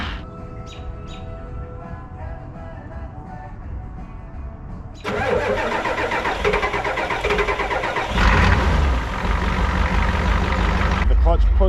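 An old abandoned junkyard Ford wrecker truck's engine cranks and fires up, then settles into a loud, rough, steady idle close by, rising briefly in a rev, with birds faintly audible early on.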